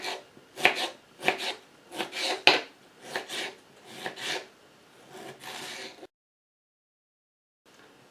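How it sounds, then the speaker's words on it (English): Knife chopping a tomato on a board, about a dozen crisp, evenly spaced cuts in a steady rhythm, close and clear, then silence near the end. "And chop the tomato."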